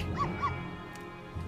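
Constantine, a dog in the game Professor Layton vs Ace Attorney, gives two quick high barks close up, followed by quieter background sound.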